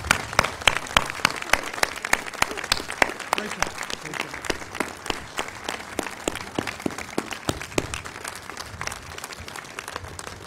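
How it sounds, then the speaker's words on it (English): Sustained audience applause at an outdoor Memorial Day ceremony for veterans, a dense, steady clapping from a crowd lasting throughout, with some sharper individual claps standing out. "will everyone please rise and join me in applauding all of our veterans today"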